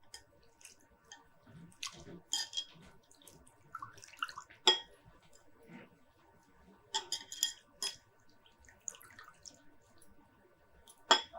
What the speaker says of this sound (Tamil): இதை முதல்ல இந்த அவலை லேசாக தண்ணி ஊற்றி ஒரு கழுவிடலாம்.